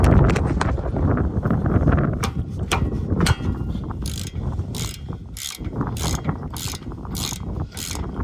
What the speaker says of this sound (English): now we're going to bust loose these caliper brackets